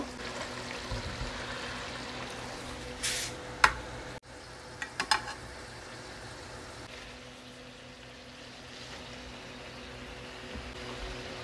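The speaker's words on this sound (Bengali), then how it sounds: "মাছগুলা কষানো হয়ে গেছে এখন আমি মাছগুলো উঠায় রাখবো" Hilsa fish pieces in a pan give a low, steady sizzle, with a few sharp utensil clinks and scrapes near the start before the frying settles into a quiet background hiss.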